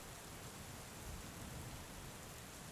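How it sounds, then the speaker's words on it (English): A thunderstorm with falling rain makes a soft, dense, continuous hiss with a faint low rumble underneath, distant and quiet, and no voices. "I conjured this storm of lightning and rain and thunder because that is what I am."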